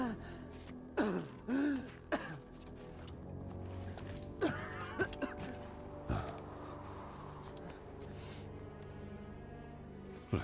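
A boy coughs and catches his breath in the God of War video game, short harsh throat-clearing bursts spaced out over a steady low background of game ambience.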